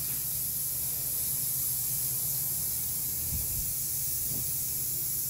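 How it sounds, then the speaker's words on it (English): Spray adhesive glue hisses steadily from a can onto foam and egg-carton material over a concrete floor for a headboard build, a continuous close airy spray with faint low thumps. "this glue, as you see it, I'm spraying it, it's coming out and it's actually sticking down here to the concrete a little bit"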